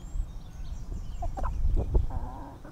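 Backyard chickens foraging on a lawn, with a few short clucks and soft calls in the middle of the clip over steady low outdoor rumble, fairly near and moderately quiet.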